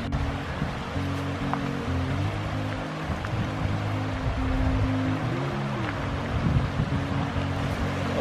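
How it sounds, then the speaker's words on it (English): A small waterfall on a spring forest trail near John Rock, Asheville, gives a steady, broad rushing wash of falling water with a low, droning undertone and no talking. "we see a little waterfall"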